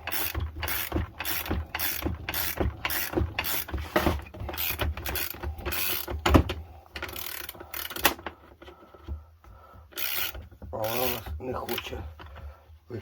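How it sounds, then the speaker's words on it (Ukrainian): Wrench unscrewing a stud from an engine oil pan with a nut run onto it: steady rapid ratcheting clicks, close and loud, then slower rasping turns and scrapes, with someone speaking briefly. "беремо ключ і викручуємо"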